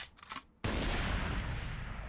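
Burst of gunfire in the PS2 video game 50 Cent: Bulletproof, a sudden loud, dense volley that erupts after a quiet moment and keeps roaring steadily with no pause.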